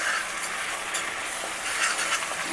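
Ginger garlic paste hits a hot pan and sizzles steadily, a close, continuous frying hiss with faint stirring scrapes while butter chicken is being cooked at home.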